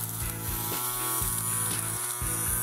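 An electric fabric shaver buzzes steadily as it removes fuzz from a jacket, its close, loud motor hum dipping in a regular rhythm as the blades catch and cut pills.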